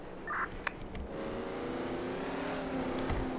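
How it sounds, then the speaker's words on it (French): Cars drive fast at night in a roleplay video game, a steady engine drone that rises and holds as a vehicle accelerates, with a faint radio blip near the start. "Les voitures roulent fort ce soir, dis donc"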